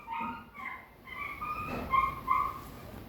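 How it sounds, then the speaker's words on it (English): A dog whimpers and yips outside as someone picks it up, with several faint, thin whines in a short broken series heard alone at a distance. "someone is picking up a dog outside"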